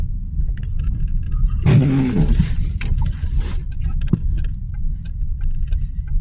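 A car driving uphill on a snowy road with the driver's foot off the gas, giving a steady low engine and road rumble, with a brief rough surge and scattered small clicks and knocks.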